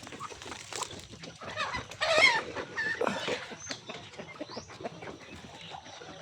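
Pet chickens on an island farm clucking, several birds close by with overlapping soft clucks and a few louder calls over a faint outdoor background.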